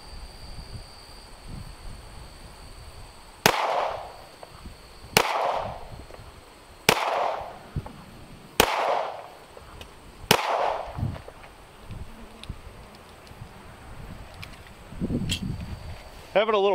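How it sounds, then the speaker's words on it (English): Five sharp, loud shots from an FN 503 Compact 9mm pistol loaded with steel-case Winchester 147 grain rounds, spaced roughly every one to two seconds, with a sixth crack near the end and outdoor handling noise between. "do a full mag of 8 rounds of the steel case Winchester"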